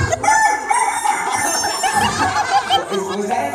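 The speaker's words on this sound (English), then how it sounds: "A rooster." A loud rooster crows close by, a long rising-and-falling cock-a-doodle-doo with a few clucks around it.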